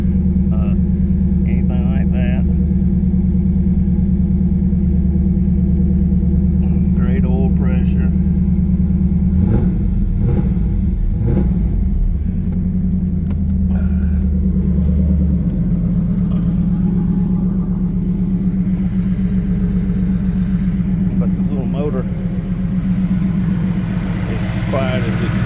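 A car engine idles with a steady, close, low drone throughout, someone talking over it and a brief rise in rumble midway.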